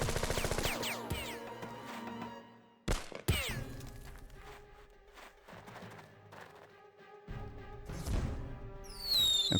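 Mortar fire and explosions in the video game Jagged Alliance 2, with a sharp impact burst near the middle followed by crashing debris and lingering game tones, fairly loud against a busy soundscape.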